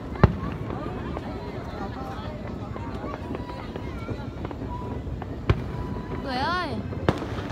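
New Year's Eve fireworks (Vietnamese giao thừa, 2018) go off near a family home: a few sharp, isolated bangs and crackles cut through ongoing close conversation, with a whistling rise near the end.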